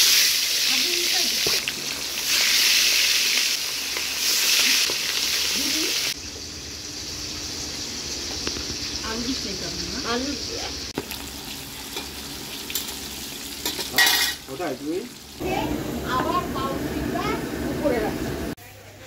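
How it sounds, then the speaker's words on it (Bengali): Rohu fish pieces sizzle and spatter in hot oil in a pan during rooftop cooking, a loud continuous frying hiss with occasional stirring clatter and a voice speaking now and then. "রুই মাছ ভাজা হচ্ছে।"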